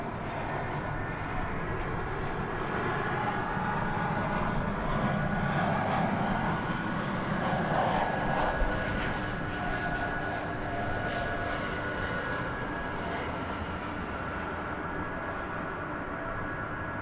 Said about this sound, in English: we do have to look forward to the American Airlines takeoff to Auckland